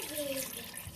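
Water pours into a pot of browned spare ribs for sinigang, a soft, continuous splashing stream heard close up for a moment, faint and with no words spoken over it.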